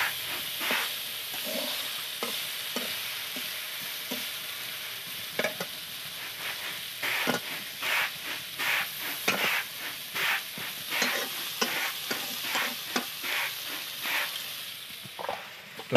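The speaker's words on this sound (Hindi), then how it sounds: "प्रथम कलरा भजा हो" Bitter gourd fries in a pan with a constant oily sizzle and hiss, punctuated by repeated clinks and scrapes of stirring at an irregular rhythm, with no talking.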